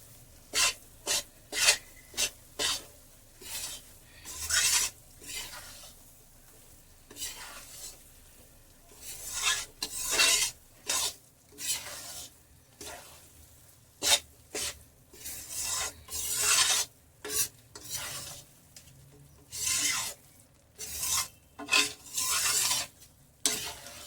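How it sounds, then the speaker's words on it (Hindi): Wheat flour for gond and dry-fruit laddus roasted in a pan: repeated close scraping strokes of a spoon stirring and rubbing across the pan, in bursts with short pauses, over a faint background. "अब ये देखो आटा, इसको हम छोड़ते नहीं है, इसलिए इसको चला के रखते हैं"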